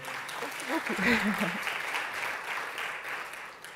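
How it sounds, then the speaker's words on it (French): Conference attendees at a closing session on living and working with cancer clap for the day's host, a moderate spread of applause with a voice speaking briefly over the start. "Alors, on peut aussi l'applaudir."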